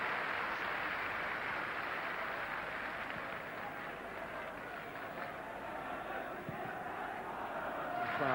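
Football stadium crowd of about 12,500 at a 1991 League Cup match between Partick Thistle and Rangers, a steady distant murmur and roar continuing throughout under faint broadcast ambience.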